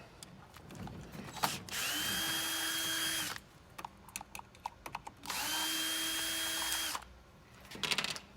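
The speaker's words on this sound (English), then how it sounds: "Now I'm just going to remove those 4 screws real quickly." A cordless power drill spins out screws fitted with half-round washers from a light strand electrical box, in two sustained whirring bursts each ending abruptly, separated by close handling clicks and taps.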